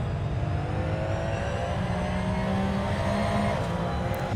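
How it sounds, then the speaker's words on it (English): A race car at Race City, Canada, drifting through a hairpin, its engine droning loud and steady with a sustained whine throughout, no pause in the sound. "Peter with a nice drift through the hairpin."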